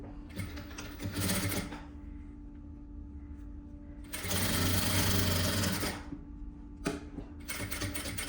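A sewing machine runs in bursts while stitching the seams of a women's vest, loud close whirring spells of a second or two, with quieter pauses and faint handling between.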